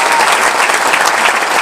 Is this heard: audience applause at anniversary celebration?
yes